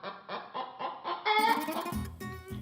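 A chicken clucks in a short run of rhythmic calls, then breaks into louder, drawn-out squawks, close and clear with no talking.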